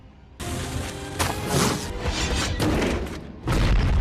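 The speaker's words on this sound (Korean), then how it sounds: "그리고 마침내 기회가 생기자 윌리엄은 대폭발을 노리는데" A huge explosion in a big-budget fantasy blockbuster, a loud sustained roar of blasts and rumbling booms rolling on for several seconds, with a fresh burst near the end.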